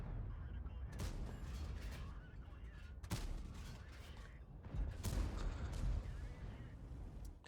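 Tank cannon shots in World of Tanks arrive as a few heavy booms spaced seconds apart, each a sharp blast with a rumbling tail. Between them sits a constant low mechanical battle din.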